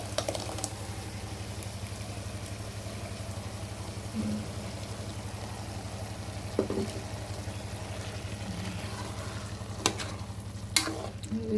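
Spicy masala stirred into fenugreek leaf pulao frying in a pan, a steady close sizzle with occasional clinks and scrapes of the spoon, no talking.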